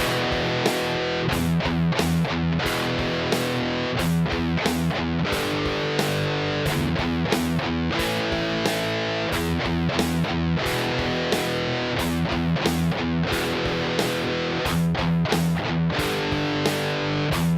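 Palm-muted distorted electric guitar chords in a heavy rock style at 90 BPM, a steady chugging rhythm of tight, percussive strums played loud and alone.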